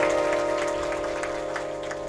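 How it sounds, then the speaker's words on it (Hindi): Applause from a crowd at a Bhagwat Katha religious gathering, a continuous patter of clapping that slowly fades, with a sustained musical drone underneath. "थोड़ा और जोर की ताली बजाओ"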